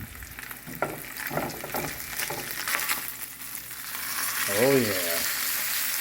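Pork steak frying in a pan just after being flipped, a steady close sizzle that grows slightly louder toward the end, with a brief spoken interjection over it.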